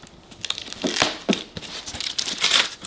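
A pair of sharp scissors snips through material at a sewing desk, making several crisp, crinkly cuts in quick irregular succession, close and fairly clear.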